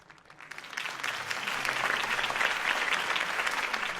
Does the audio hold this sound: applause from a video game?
yes